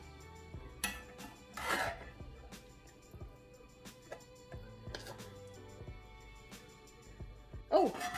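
Knife slicing a deep dish pizza inside a cast iron pan, with scraping and clinking of metal on iron in a few short bursts at close range, among quiet kitchen handling noises.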